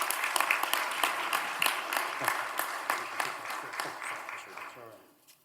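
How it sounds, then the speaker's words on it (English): Sustained audience applause at a club luncheon for a speaker, the Executive Director of the Alabama Sentencing Commission, dense and steady, then fading out near the end. "A round of applause for our speaker."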